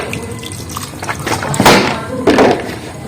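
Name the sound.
washing cut palm fruit with water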